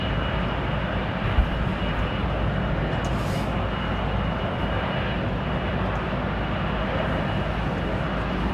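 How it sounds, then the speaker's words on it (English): A TAP airliner in retro livery taxis at London Heathrow Airport, its engines producing a continuous, fairly loud rumbling whine with a steady low roar throughout. "Roger Slater, TAP Retro taxiing out"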